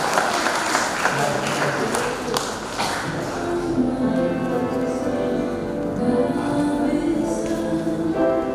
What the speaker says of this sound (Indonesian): Boleh tepuk tangan.